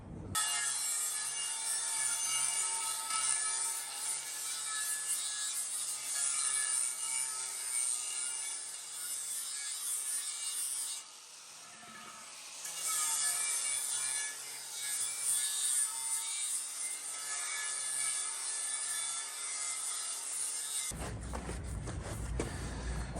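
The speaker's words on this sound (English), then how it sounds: "let's get in there with a sander, make this all nice and smooth" A power sander smooths a truck wheel rim ahead of priming, giving a loud, close, steady abrasive whir with a brief dip near the middle before the grinding resumes, then cuts off near the end.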